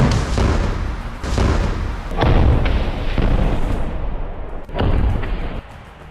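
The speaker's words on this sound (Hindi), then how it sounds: "रॉकेट लॉन्चर फायर कर देता है, जिसमें बहुत बड़ा धमाका होता है।" Several heavy booming rocket launcher blasts follow one another during combat in Rafah, loud and close, each with a rough rumbling tail that fades before the next hits.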